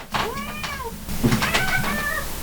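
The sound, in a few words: cat meowing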